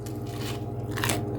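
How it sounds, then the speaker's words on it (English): An air-fried Tyson chicken tender, well cooked in an Emeril Air Fryer 360, gets bitten with a close, loud crunch that peaks near the end over a steady background hum. "you can hear the crunch."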